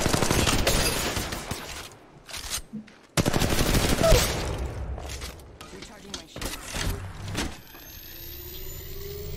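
Gunfire in Apex Legends Mobile, rapid bursts of close shots that cut out sharply in places and give way to quieter mechanical clatter, with someone talking over the action.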